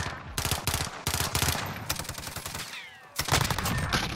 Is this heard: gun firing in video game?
yes